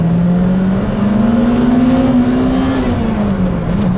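A high-revving VTEC car engine accelerating toward nearly 8,000 RPM, its loud, close, smooth whine climbing steadily in pitch and then dipping slightly, with no voices.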